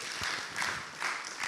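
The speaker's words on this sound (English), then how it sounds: "A big round of applause for Nsea and Mohammed." Audience applause at a health forum session of the Tanzania Health Summit, a steady wash of clapping rising in brief swells over the short stretch.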